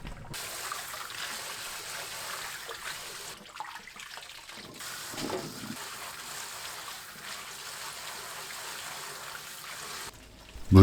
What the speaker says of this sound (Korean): 바로 찬물에 헹굽니다